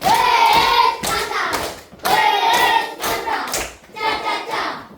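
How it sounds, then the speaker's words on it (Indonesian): A school class claps together in a rhythmic appreciation pattern, several quick bursts of applause in a row, loud and close, with a voice briefly underneath. "Oke, tepuk apresiasi."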